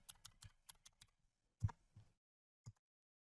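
Typing on an 8BitDo mechanical numpad, C=64 edition: a quick run of sharp key clicks, then a few slower, heavier presses and one last tap, close and quiet.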